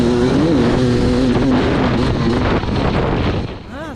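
An enduro dirt bike on a sprint enduro course is pushed hard on the throttle out of a corner, a loud close engine whine wavering in pitch, buffeted by heavy wind noise, easing slightly toward the end.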